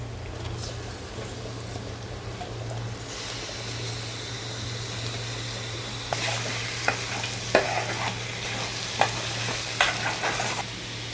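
Chicken sizzling and frying in a pan for Telangana-style chicken curry with curry leaves, steady sizzle throughout with a low hum, and sharp scraping clicks of a spoon stirring in the second half.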